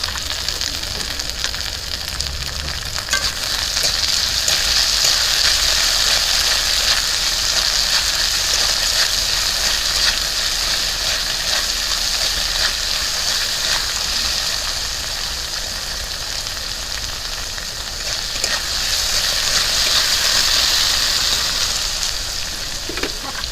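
Potatoes and carrots fry together in a pan, giving a steady, loud sizzle that runs unbroken and swells slightly near the end, with no talking.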